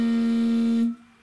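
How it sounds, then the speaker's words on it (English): Harmonica with a soft hum for a mild growl: one steady sustained note, close and even, cutting off abruptly after about a second. "A soft hum is basically just going to sound like this."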